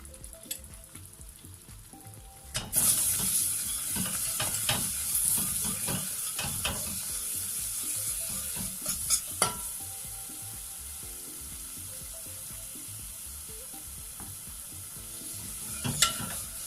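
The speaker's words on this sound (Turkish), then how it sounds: "Ve bunu 1-2 dakika kavuracağım. Şimdi salçamı ve baharatlarımı ilave edeceğim." Tomato paste and spices sizzle loudly in a soup pot as they are sautéed and stirred, a bright steady frying hiss that begins abruptly and continues with scraping stirs and occasional clicks, no voices.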